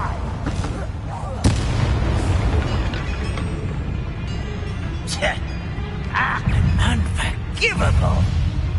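Confringo fire spell blasts in the video game Hogwarts Legacy: booming explosive bursts and crackling impacts over a dense battle din, with voices speaking throughout.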